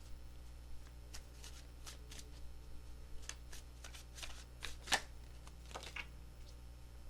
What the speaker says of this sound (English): All right, 3 shuffles.